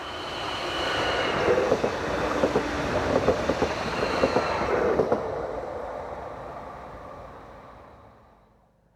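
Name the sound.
bi-mode diesel passenger train 755409 passing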